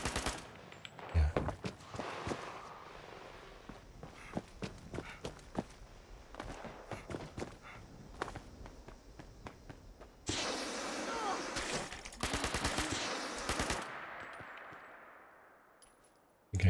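Gunfire in Fallout 76, scattered sharp shots and rapid automatic bursts, some close and loud, some fainter, with metallic clanks and footsteps between volleys and a dense burst of firing near the end.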